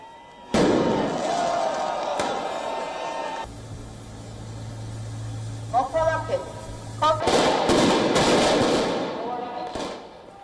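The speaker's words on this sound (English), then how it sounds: "protesters launched fireworks at the police lines near the Georgian parliament" Loud bangs and crackling bursts from fireworks launched by protesters at police lines near the Georgian parliament in Tbilisi ring out amid a noisy crowd, with a steady low hum and scattered shouts in between.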